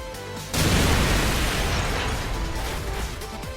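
A thrown grenade detonates in Counter-Strike on the Backlot map, a sudden loud boom after a half-second lead-in, followed by a broad rumbling tail that slowly fades.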